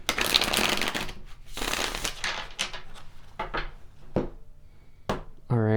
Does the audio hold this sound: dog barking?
no